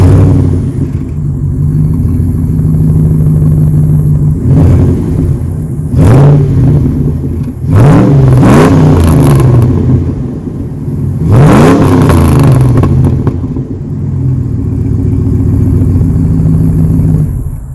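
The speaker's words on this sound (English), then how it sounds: "a nice free-flowing catless exhaust with a Borla muffler, and it sounds pretty darn good" A 1994 Dodge Dakota SLT's catless exhaust with a Borla muffler idles with a deep burble, then revs up sharply several times in quick bursts, loud and close, settling back between each rev.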